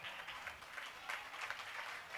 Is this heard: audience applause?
yes